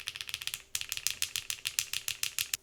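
Rapid clacky keystrokes with a light rattle on a QK65v2 mechanical keyboard, quick bursts of typing, close and fairly quiet, with a brief pause before the typing resumes.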